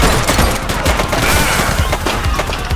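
Loud, dense gunfire erupts in The Precinct, a police game, as rapid overlapping shots rattle in a continuous close fusillade with no pauses.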